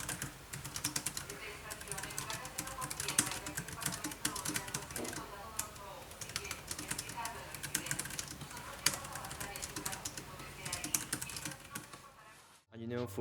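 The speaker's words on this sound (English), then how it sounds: "for the typing sound, it's actually really good, and you're going to hear it right now." Typing on a plastic knockoff Magic Keyboard at a home programming desk setup, with a steady run of rapid, close key clacks that lasts nearly the whole stretch and ends abruptly.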